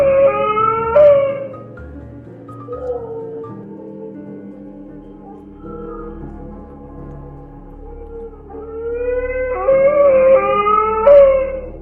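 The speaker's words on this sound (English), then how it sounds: "suddenly the dog outside the house made a sad bark for no reason, as if something terrible was happening" A dog outside a house at night gives drawn-out mournful howls and whimpering barks, loud and fairly close, rising in pitch at the start and again toward the end with quieter moaning in between.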